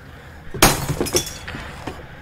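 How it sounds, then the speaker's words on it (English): Glass and objects smashing nearby in the horror video game From Day To Day: one loud crash followed by a few scattered, fainter clattering impacts, with no speech. "Someone's smashing shit around me."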